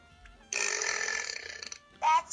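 A long, loud burp from a child, rasping for over a second at close range, followed by a brief vocal sound.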